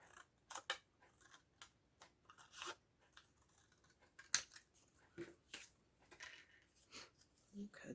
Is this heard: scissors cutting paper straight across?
yes